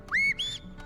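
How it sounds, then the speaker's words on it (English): Two sharp, rising shepherd's whistle blasts to a sheepdog, close together, the second higher and longer, followed by a faint third chirp over quiet background noise, in the Scottish Highlands. "That whistle sound means left,"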